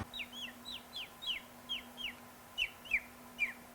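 A voice imitates calling chickens, as done in a village, with a rapid series of short, high, chirpy clucks, about ten repeated calls in a quick rhythm.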